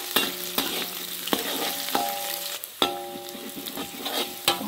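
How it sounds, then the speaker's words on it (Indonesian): Shallots, garlic and chili frying in a pan for noodles are stirred repeatedly, with sharp utensil scrapes and clacks against the pan at irregular intervals over a continuous close sizzle, and no talking. "Aduk aduk kembali."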